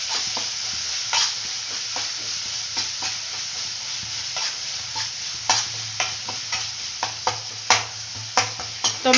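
Tomatoes fry in a hot pan with a steady sizzle, while irregular scraping clicks from a spatula stirring them sound throughout and grow sharper toward the end.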